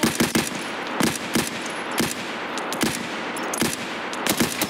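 M4 rifle gunfire rattles loudly in Escape from Tarkov, with rapid bursts of closely spaced shots repeating steadily and without pause for the whole stretch.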